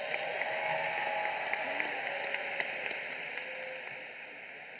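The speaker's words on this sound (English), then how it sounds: "Let's have one more big round of applause for Judy Tejeda Gonzalez." Audience applause at a law school commencement ceremony, a steady, fairly distant wash of many people clapping that slowly fades, with a faint steady hum underneath.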